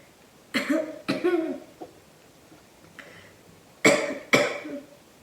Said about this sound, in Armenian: երբեմն, որ այսպիսի հազը սկսվում է